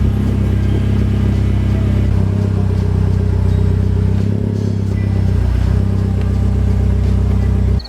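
Mitsubishi Evo X engine running steadily after a fresh engine bay rebuild, a loud continuous rumble with light clatter and a faint rise in revs partway through, close by with no talking.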